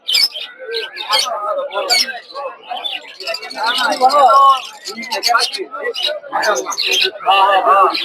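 Caged diamond doves and other small birds at a rural Bangladeshi village bird and pigeon market chirp and call in quick, busy bursts, mixed with nearby people talking and general crowd chatter.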